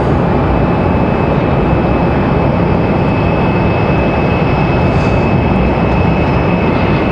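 An American Airlines jet headed for Philadelphia at Raleigh-Durham airport, a loud, steady broadband engine roar with a faint high whine held throughout, no voices.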